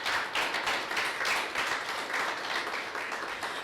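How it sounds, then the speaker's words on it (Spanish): A church congregation claps together in sustained applause, a dense, even patter of many hands at moderate volume with no break for the whole stretch. "Damos un aplauso de victoria ahora en el nombre de Jesús"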